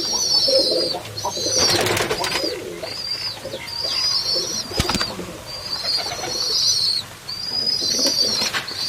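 Domestic pigeons cooing repeatedly at a farm while they drink water, with steady low coos close by and a few brief wing flutters and thumps.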